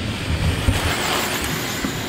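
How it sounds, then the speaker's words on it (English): Small RC sprint cars run on a dirt track at the Roseburg Winter Showdown, giving a steady, dense buzzing motor drone with no clear breaks, fairly loud and close. "check out these RC cars"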